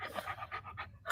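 A dog pants rapidly and loudly up close in a steady rhythm of quick breaths, heard alone.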